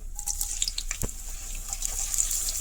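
Sliced onion frying in about fifty grams of ghee, making a close, steady sizzling hiss dotted with small crackles and pops throughout, with no voices.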